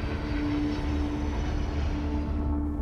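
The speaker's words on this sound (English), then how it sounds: "their 777 began thundering down the runway" Boeing 777 airliner taking off on a runway at night, a steady broad engine roar with a sustained hum, loud and continuous, fading slightly at the very end.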